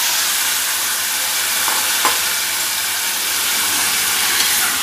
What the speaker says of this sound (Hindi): अब मैं इसमें जो मैंने टमाटर काटा था मैं डाल देती हूँ।